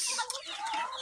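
Several chickens clucking and murmuring close by, a steady busy chatter of hens with no talking.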